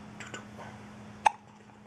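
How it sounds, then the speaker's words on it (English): One sharp, close hiccup stands out briefly against a quiet room with a low background hum. "A hiccup."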